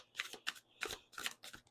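Large tarot cards being shuffled by hand, four or five quick riffling bursts with short pauses between, close and fairly quiet with no talking.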